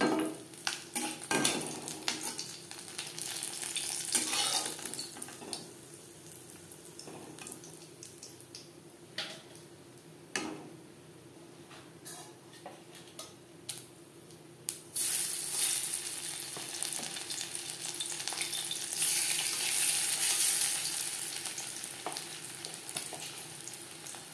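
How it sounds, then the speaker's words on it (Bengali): Small parshe fish fry crisply in hot oil, a soft continuous sizzle broken by clinks of utensils, with a brief running tap and louder crackling toward the end. "উল্টে পাল্টে ক্রিস্পি করে মাছ ভেজে নেওয়া হয়ে গেছে।"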